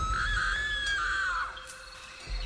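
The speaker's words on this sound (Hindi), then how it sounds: "जो उसने देखा उसे देखकर वो जोर से चीख पड़ी" A woman screams loudly in a Hindi horror story, a single long, high, piercing cry that wavers and slowly falls away over a low rumbling background.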